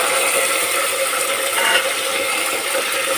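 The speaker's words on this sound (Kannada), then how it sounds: "ಈಗ ಬಟಾಣಿ ಹಾಕ್ತಾಯಿದ್ದೀನಿ ನೋಡಿ ಫ್ರೆಂಡ್ಸ್" Green peas tipped into hot oil in a pan for ghee rice, giving a loud, continuous, close-up hiss that holds steady throughout with slight crackly texture.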